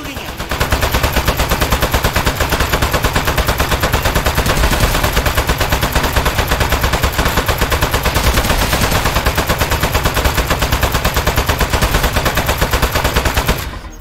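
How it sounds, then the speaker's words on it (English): Sustained rapid automatic gunfire from the video game Aperture Desk Job, loud and continuous for about fourteen seconds with a dense, steady machine-gun rhythm and no talking over it. "Don't stop. Keep shooting him."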